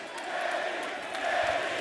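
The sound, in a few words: wrestling crowd cheering Kenny Omega's entrance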